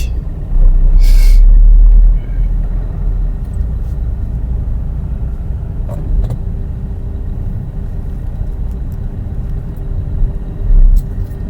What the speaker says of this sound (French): Il y a tellement de bouchons ici partout.